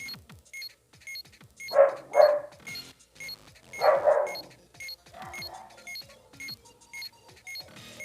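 A dog barks outside in front of a house in a few short, loud bursts. Fainter yips and a repeated bright chiming noise carry on between the barks, and nobody speaks.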